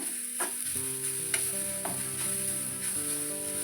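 Grated coconut and cardamom powder roasting in a pan for carrot modaka, with a steady dry sizzle and a few scraping stirs of a spoon against the pan, close by with no talking.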